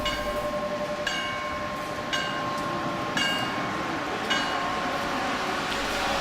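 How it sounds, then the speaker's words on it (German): A Rhaetian Railway train on the Albula-Bernina line departs, rumbling steadily with rhythmic clicking of wheels over rail joints, a continuous low roar with faint metallic tones, no voices. "Tja, Gertrud, der Zug ist weg."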